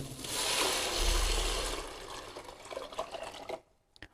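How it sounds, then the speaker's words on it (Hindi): Chicken stock being poured into a cooking pot for chicken soup, a steady liquid rush for about three and a half seconds that tapers off into quiet, with a few small clinks at the end. "अब हमें जो पानी था चिकन का वो इसमें डाल देंगे।"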